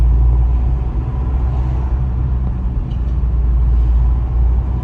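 A car driven slowly along a road, downhill toward a braking check, during a driving-test practice route in Turkey: a loud, steady low rumble of engine and tires from inside the cabin, with no voices.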